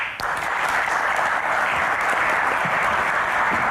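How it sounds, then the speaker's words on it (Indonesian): Audience applause at an evening Q&A event with guests on stage, a sharp onset followed by steady, full clapping from a crowd that holds strong to the end. "Tepuk tangan lebih meriah lagi"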